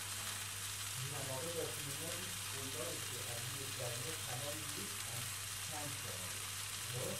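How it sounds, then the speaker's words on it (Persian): Bell pepper and cauliflower sizzle in a pan beside a steak, a steady loud frying hiss with faint clinks of stirring throughout. "بعد از سبزیجاتی که دوست دارین میتونین بذارین کنارش سرخ بشه"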